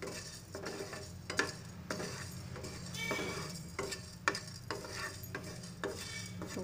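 Urad dal and chana dal dry-roasting in a pan, stirred with a spoon in repeated dry scraping strokes and metallic clinks, a faint patter of rattling lentils between them, close and quiet.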